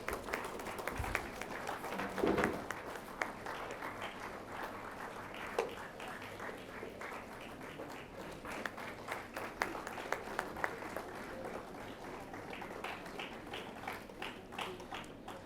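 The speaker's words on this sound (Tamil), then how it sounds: "உங்கள் பலத்த கரவொலியோடு" Audience claps at an honouring ceremony during a devotional literature festival at SRM, a steady patter of many hands in a hall that starts fuller and continues evenly, with scattered individual claps standing out.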